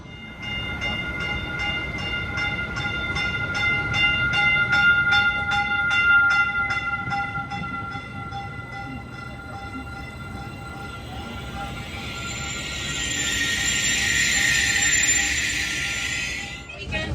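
Rumble and rolling noise fill the interior of a moving train between Millbrae and San Mateo. A rhythmic chime of pulsing tones sounds early on, and a bright hiss swells later, with a voice speaking over the ride.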